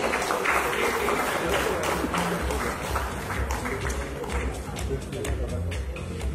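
Audience applause fills a hall at a Marathi movie music and trailer launch, steady dense clapping sustained throughout with crowd murmur and a voice over it.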